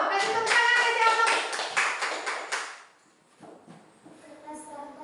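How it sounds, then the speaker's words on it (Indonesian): Quick, dense hand claps from a small group ring out for about three seconds, then fade into quieter room noise with scattered voices. "kasih tepuk tangan aja Om"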